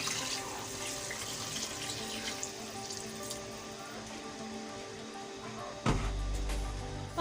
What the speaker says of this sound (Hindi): पानी मैंने डाल दिया, इसे मैं चलाऊंगी।